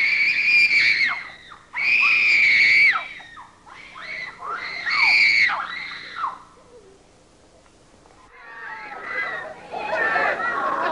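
A crowd of excited fans screams loudly on a count of three at a Beatles event, in long, shrill bursts with brief pauses, followed by lighter mixed shouting and chatter.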